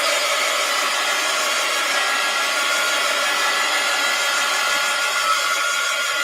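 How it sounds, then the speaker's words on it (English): A heat gun heat-setting paint on an art journal page blows a loud, steady whooshing roar up close, holding constant from start to finish with no pauses. "Heat gun alert."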